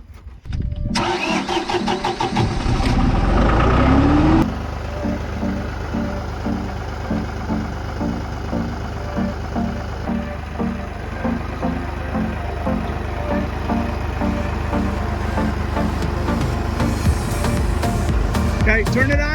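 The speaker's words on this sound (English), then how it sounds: "turn it on and rev it up" A New Holland tractor engine cranks and catches, roars briefly, then settles into a loud, close, rhythmic diesel idle with slight revving toward the end.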